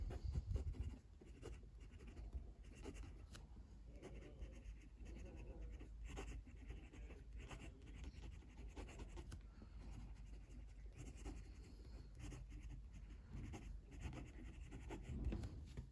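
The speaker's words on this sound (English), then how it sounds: "Let's do some writing." A Big Idea Design EDC fountain pen writes on paper up close, with a continuous soft scratchy nib stroke over faint background hiss, steady for the whole stretch.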